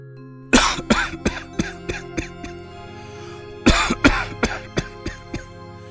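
Two bouts of heavy, rapid coughing, each a string of harsh hacks close to the listener, with a steady low hum underneath.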